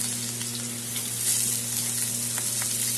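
Potatoes and onions fry together in a pan with a steady, close sizzle and crackle that holds evenly throughout, with no voices.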